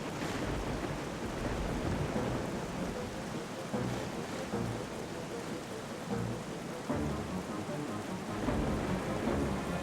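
Steady rain pours down with rolling rumbles of thunder during a stormy sky level of the video game Twilight Princess HD, a dense, continuous wash of noise that swells in low booms around the middle and end, with no one talking.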